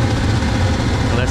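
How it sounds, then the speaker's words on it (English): A gas-fired LAARS hot water boiler's vent motor runs with a steady low hum and whir, loud and close, with a person talking over it. "Vent motor came on."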